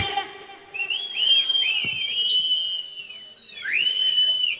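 Loud, shrill whistles from a tamasha festival audience rise and sweep in long, wavering runs, one stretch after another, with a brief pause before a final burst.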